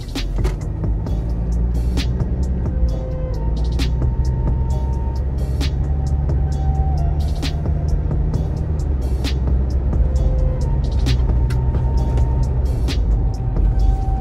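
Mitsubishi Pajero Sport Dakar 2016 with 2.4 diesel engine and automatic transmission accelerating on a straight road, heard from inside as a steady, loud low engine drone and road rumble that holds throughout with no talk.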